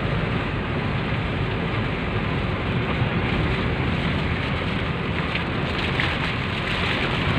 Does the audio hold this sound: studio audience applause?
no